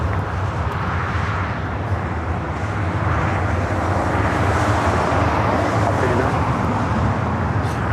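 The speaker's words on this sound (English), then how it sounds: "Another Delta A321 Neo up next for arrival" A Delta Airbus A321neo jet arriving at Los Angeles LAX gives a steady, loud broadband engine roar that holds throughout and swells slightly toward the end, with traffic noise mixed in.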